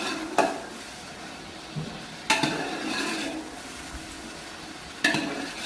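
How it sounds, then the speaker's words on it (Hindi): Tomatoes being stirred in a cooking pot for white chicken pulao, a low background sizzle broken by three sharp spoon scrapes and knocks against the pot, close by with no talk. "टमाटर को ऐसे मिक्स करते रहें।"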